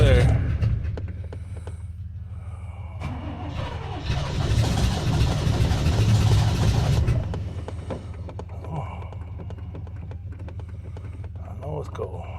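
A Ford OBS pickup truck idles roughly after a cold start in minus 10 degree Texas weather, a steady low engine rumble that swells louder for several seconds before settling back, with a person talking over it.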